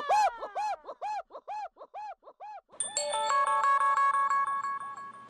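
A mobile phone ringtone plays a chirpy electronic melody of short warbling notes, then shifts into a bright, repeating synthetic tune.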